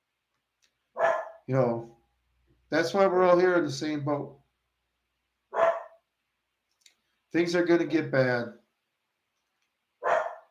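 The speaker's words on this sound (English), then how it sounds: "barking at something" Dog barking at something in the background in short separate bursts across the stretch, while someone talks at length over it.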